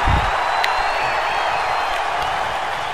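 A wrestling crowd at a Royal Rumble event cheers and claps for Victor in a steady, loud wash of noise, with a few sharp whoops and claps standing out over the roar.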